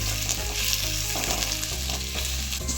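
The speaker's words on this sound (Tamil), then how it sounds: "நாலு வெங்காயம் சேர்த்தோம் நூற்றம்பது கிராம் வரும் இதை வதக்கி" Four large onions, about 150 grams, sizzling steadily in hot oil for a fish curry, with a continuous close frying hiss and occasional stirring scrapes.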